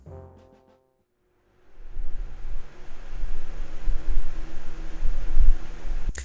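A brief tone cuts off into near silence. Then a fan starts up and blows a steady, close, windy rush that keeps going to the end.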